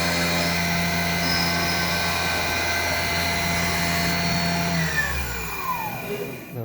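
A milling machine bores out a Simson S51 crankcase with a loud, steady whining drone and layered tonal hum, shifting pitch and winding down near the end, with no talk.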